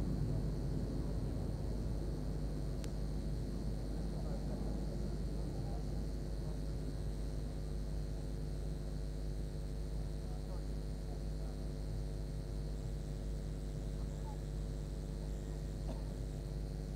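Nine Red Arrows jets take off together from the runway at the Farnborough Airshow 2014, a steady, heavy roar that fills the air without letup.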